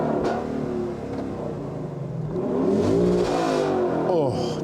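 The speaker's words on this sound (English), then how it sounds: "Should I give it a rev?" A 2022 Lexus LC500 convertible's engine revs up, a rising mechanical rumble that swells and falls over a few seconds, loud and close, with a voice heard over it.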